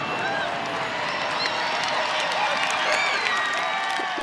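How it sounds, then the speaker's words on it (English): A large audience bursts into sustained applause with many hands clapping, welcoming a writer and activist on stage; a steady, loud wash of clapping fills the whole stretch with faint cheering mixed in. "I see lots of hands clapping. Yes. Yes. Massive applause."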